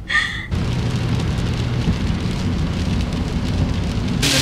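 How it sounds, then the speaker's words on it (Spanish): Heavy rain pours down steadily on a vehicle driving to the store, a dense, continuous roar of drops drumming on the roof and glass, loud and close with no talking. "Está lloviendo con ganas."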